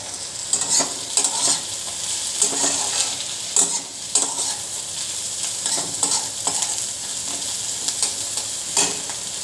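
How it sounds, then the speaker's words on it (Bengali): Ingredients for a pasta dish fry loudly in a pan, a constant sizzle broken by repeated scraping stirs at an irregular, fairly quick pace, close by with no talking. "আর একটু ভাজা করে নিই, আর 2 মিনিট ভাজবো, এরপর পাস্তাগুলো দিয়ে দেবো।"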